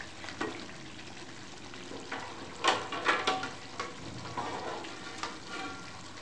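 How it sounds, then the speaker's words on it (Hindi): Paya (trotters) frying in a pan, a steady soft sizzle broken by clattering stirring and scraping bursts near the middle, close and fairly quiet with no talking. "पाए डाल के थोड़ा सा भूनेंगे इस तरीके से"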